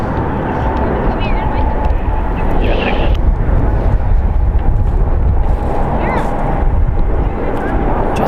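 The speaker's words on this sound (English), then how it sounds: "as the Condor is touching down here" A Condor Airbus A330-900 touching down at San Francisco International Airport, heard as a loud, continuous broadband jet roar with wind buffeting that stays steady throughout, a faint voice underneath.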